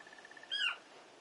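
In the Final Fantasy XVI video game, a trained hunting bird lets out one short, faint, owl-like call that rises briefly above a soft hiss of background ambience.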